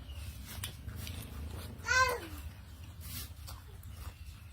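A dog howls once in a brief rising-and-falling wail, fairly close, over a steady low background rumble with faint voices around it.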